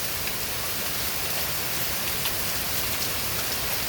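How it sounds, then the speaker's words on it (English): Hail bouncing off surfaces during a May tornado-warned thunderstorm, a dense, steady hiss of pelting impacts with faint scattered clicks, continuous and close, no voices. "There's more hail bouncing off."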